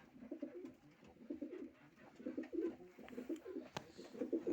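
Pigeons or doves cooing nearby in soft, repeated throaty phrases that recur steadily, with a faint bird chirp in the background.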